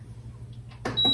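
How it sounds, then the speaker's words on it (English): A soft hum from a small toaster oven coming up to temperature gives way to a couple of clicks and a steady electronic tone. "that sound you're hearing is my little toaster oven. It is coming up to temperature."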